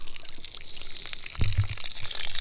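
Water drains from a rain barrel chicken waterer through a stainless steel pipe, a quiet trickling flow with a brief gurgling burst midway.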